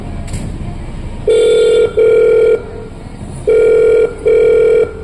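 Telephone ringback tone purring in two double bursts, steady and clear, as a call is placed to a police station, with faint background hiss between rings.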